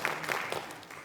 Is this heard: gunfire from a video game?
no